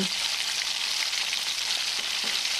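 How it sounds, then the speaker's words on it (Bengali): Large potato pieces frying in oil in a kadai give a steady, close bubbling sizzle that holds at an even level throughout, with no talking. "এবার একটি কড়াইতে তেল দিয়ে একটা বড় সাইজের আলু পিস পিস করে কেটে নিয়ে ফ্রাই করে নেব"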